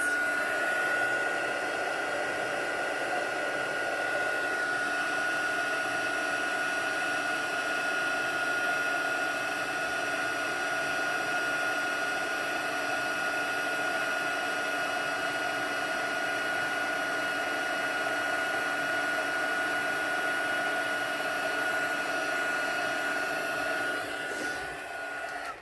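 Heat embossing gun blowing hot air onto a Christmas card to melt embossing powder: a steady, loud whirring blower hiss with a constant whine, running unbroken for the whole stretch with no talk.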